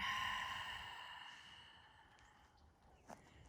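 A strong open-mouth exhale during a gentle yoga flow sequence, a breathy whoosh right at the start that fades over a couple of seconds, close and alone.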